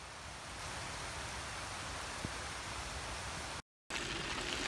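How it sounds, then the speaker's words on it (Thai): Heavy rain falls during a bicycle ride between Ban Pong and Photharam in Thailand. It makes a dense, steady hiss close by, with no voices, and cuts out for a brief moment near the end. "อันนี้ไม่ใช่ฝนโปรยนะฝนตกเลยอ่ะ"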